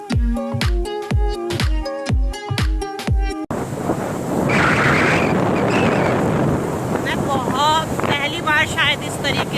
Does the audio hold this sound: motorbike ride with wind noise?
yes